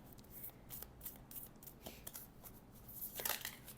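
Soft, quick riffling and snapping of cards in short bursts, close and quiet, ending with a brisker flurry.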